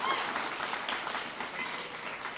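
Audience applause at a game jam showcase before a team presents its game, a dense crowd clapping that stays fairly even and moderately loud across the short stretch, with some murmuring mixed in.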